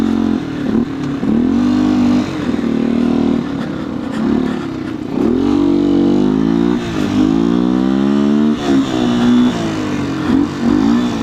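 A 2019 Beta 125 RR S motorcycle engine revving hard, its pitch repeatedly climbing and dropping in quick throttle blips, loud and close throughout.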